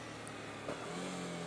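A motorcycle engine is blipped once by its rider: a single short rev swells and falls off near the microphone over a steady idle.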